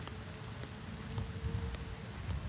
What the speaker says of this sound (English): Oh no, it's raining on me.